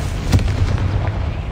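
A Confringo fire spell in Hogwarts Legacy bursts with a single loud, close boom, followed by a rumbling tail that fades over about a second.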